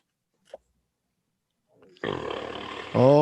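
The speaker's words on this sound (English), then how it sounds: "I had to burp" A man lets out a loud, drawn-out rough burp close to the microphone after a near-silent pause, the throaty rumble rising in pitch toward its end, with a faint brief sound earlier.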